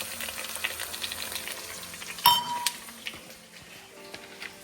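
Tomatoes and other vegetables hit a hot pan for a sea bass dish, frying with a crackling sizzle and a sharp clink of utensil against the pan midway, close and clear.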